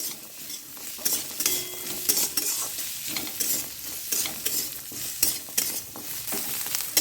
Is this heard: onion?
yes